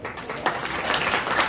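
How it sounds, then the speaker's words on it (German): A small crowd gives brief applause for the coaches after an under-23 team match, a short, dense patter of clapping at moderate distance. "Gerne auch noch einen kleinen Applaus für die Trainer."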